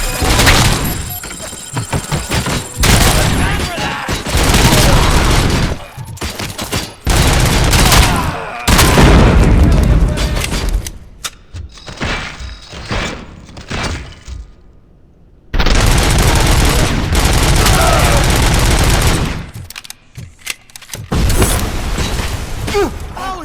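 Loud, repeated gunfire bursts and booming shots from the RoboCop: Rogue City video game, coming in dense volleys separated by brief lulls, with voices speaking in the game.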